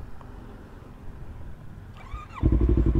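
A Yamaha R25 250cc motorcycle idles with a low, steady exhaust burble, then its engine note jumps into a loud, pulsing throaty rumble; a brief whining call comes just before.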